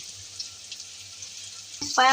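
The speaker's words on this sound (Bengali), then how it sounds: "এখন ভালো করে ভাজতে হবে" Snake gourd snack fries in a pan with a soft, steady sizzle and light crackle, then a louder burst of sizzling and a brief voice near the end.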